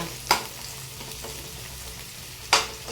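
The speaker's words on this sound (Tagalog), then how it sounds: "So, lagay na natin yung sibuyas at yung bawang." Onion and garlic frying in a pan, with a steady low sizzle running throughout and two sharp clatters of stirring breaking through near the start and end; no voices.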